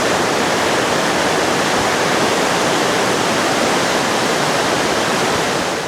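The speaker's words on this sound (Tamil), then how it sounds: "தண்ணி இப்போது சூப்பராக போயிட்டுருக்கு பாருங்கள்" The Koovam river at Manaval Nagar, Tiruvallur, rushes fast beneath a bridge, a loud, dense, continuous roar of water like a waterfall, steady throughout with no voices.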